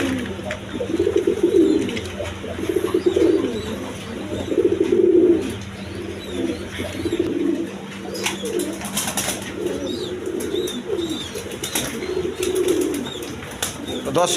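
Healthy pigeons kept for sale, with eggs and chicks, coo in repeated low, throaty rolls close by, with an occasional flutter of wings and a constant low hum beneath.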